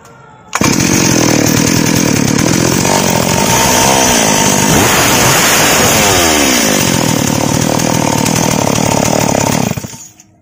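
A small engine runs continuously while its oil pump is adjusted, a loud, close, buzzing roar like a chainsaw with a brief shift in pitch midway, then cutting off near the end; no talking.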